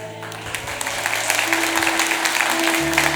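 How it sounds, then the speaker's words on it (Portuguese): Congregation applauding during a Pentecost vigil sermon, a steady wash of many hands clapping that swells slightly and holds throughout, with faint organ or keyboard tones sustained underneath. "Aplauda isso."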